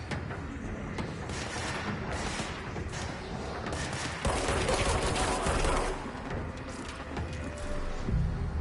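Sustained gunfire in the video game Control, rapid overlapping shots and bursts crackling at a steady distance, growing louder midway, with no speech over it.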